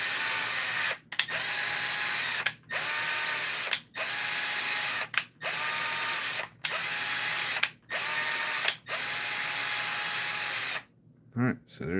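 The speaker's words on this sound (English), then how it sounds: "you're cutting those threads so that when you do it with the set screw, you ain't going to strip it out" A power drill driving a tap to cut threads for a set screw in a car brace, running in repeated loud bursts of a steady whine about a second long, separated by brief pauses, with a short clatter near the end.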